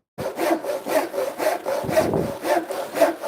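Hand saw cutting scrap wood for a bat house, close and clear, about a dozen rhythmic back-and-forth rasping strokes.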